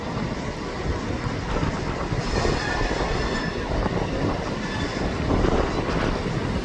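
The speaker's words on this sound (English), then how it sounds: "The Pullman's moving again." A five-coach train with a Midland Pullman front end rolls past at Crewe with a steady, loud rumble of wheels and carriage noise, and a faint squeal rising in the middle.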